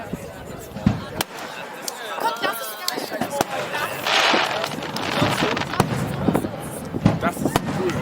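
A fireworks finale at the Mainz Johannisnacht festival: scattered booms and sharp crackling bursts go off at a moderate distance, while people nearby keep talking throughout.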